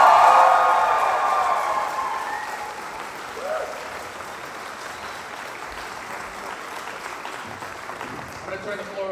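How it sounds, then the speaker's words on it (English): An audience at a Red Dead Redemption I & II cast panel bursts into loud applause that fades gradually into a steady patter of clapping lasting the whole stretch. "Please give these guys a round of applause."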